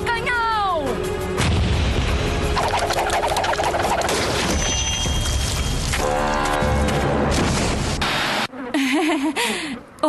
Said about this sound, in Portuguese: Disparar canhão!